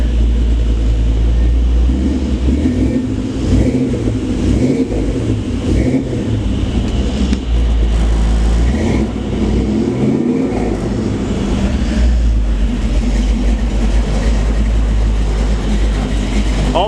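A 1953 Chevrolet 3100 pickup truck engine runs steadily and close, a continuous low rumble with slight swells in pitch before settling, no voices over it.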